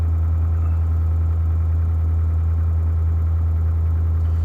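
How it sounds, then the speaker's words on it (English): A 6.7L Ford Super Duty diesel engine idles fast, around 1200 RPM, in extreme cold near -27°C, a steady, loud low rumble with constant vibration and no talking. "Boy, that's running fast with probably not much oil pressure at that temperature."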